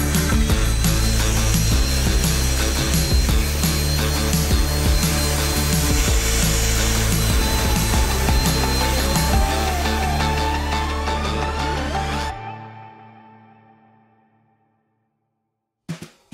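A small battery-powered dry vac whines loudly and steadily while sucking up dust inside an old sailboat, its pitch shifting slightly before it shuts off and winds down, followed by a brief clunk.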